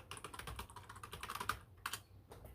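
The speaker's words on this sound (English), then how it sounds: "And I will type the address where you can go sign up" Quick, uneven keystrokes on a computer keyboard, close and fairly soft, in short bursts with brief pauses and no voices.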